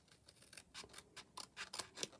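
Scissors snip through a sheet of acetate for a candle box window in a quick series of close, crisp cuts, quiet and with no talk.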